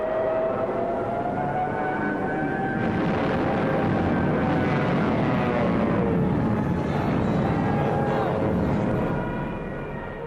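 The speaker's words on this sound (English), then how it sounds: "with Stuka dive bombers blitzing just ahead of them" Stuka dive bombers blitzing ahead of German troops in World War II street fighting on the Eastern Front, with a loud, sustained rising engine drone and siren-like wail that continues throughout before easing slightly at the end.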